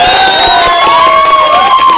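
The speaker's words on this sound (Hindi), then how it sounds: "एक बार जोरदार तालियां बजा दें।" A crowd at a political campaign meeting claps and cheers loudly, with raised voices and shouts ringing over a dense, continuous roar.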